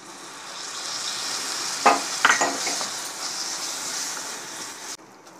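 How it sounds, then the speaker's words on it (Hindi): Grated tomato fries with spices in a kadai for arbi sabzi, a steady close sizzle broken by a few sharp spoon scrapes and clinks near the middle, then the hiss cuts out abruptly at the end. "टमाटर हमारे अच्छे से फ्राई हो गए।"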